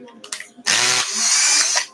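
A power drill with a fat bit boring holes into sections of an RC car part, a brief start followed by a loud sustained whine lasting about a second, close up.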